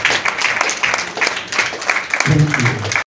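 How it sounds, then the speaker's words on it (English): Audience applauding at a mother's funeral service, a steady wash of many hands clapping close by, rising fuller toward the end as a voice begins speaking over it. "Can we give her a round of applause again?"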